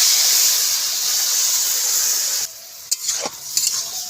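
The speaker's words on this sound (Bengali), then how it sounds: "এবারে খানিকক্ষণ কষিয়ে নেব" Masala with mustard powder, water, sugar and salt sautés in a pan. A loud, bright hissing sizzle runs steadily, then drops suddenly, leaving quieter frying broken by a few sharp scraping stirs.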